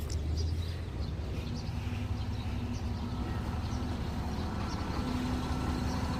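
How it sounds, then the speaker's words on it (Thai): A large trailer truck backing into a home yard, its engine a constant low rumbling idle close by, with faint background clatter and no clear voices. "เราจะมาดูพี่เอี่ยว ถอยรถเข้า"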